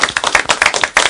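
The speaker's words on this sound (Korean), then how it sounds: "여러분 다 같이 박수." Audience claps for a lecturer coming out to give a Korean genetics talk, a short run of sharp, distinct hand claps, fairly close and loud.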